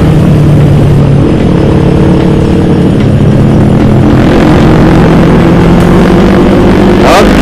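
Yamaha R25 motorcycle riding a busy mountain road on a Sunday, its engine loud and close with steady rising drone and gear changes under heavy wind buffeting.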